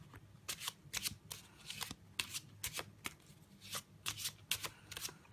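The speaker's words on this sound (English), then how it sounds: "We're going to give the cards again a nice little shuffle." A deck of playing cards is shuffled for a trick, with a rapid series of crisp riffles and snaps repeating several times in quick rhythm, close and fairly quiet, no talking.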